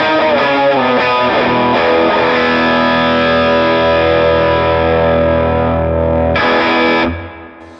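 Electric guitar run through a Vox AC30 amp preset on a Fractal Axe-FX with a King of Tone overdrive pedal, playing loud, driven sustained chords with thick harmonic distortion that ring out and then cut off near the end.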